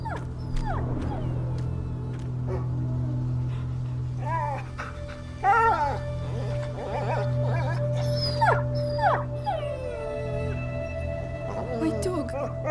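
A dog whimpering, yipping and barking in the A Plague Tale video game, a series of high whines and short barks over a steady low hum, with a voice speaking between them.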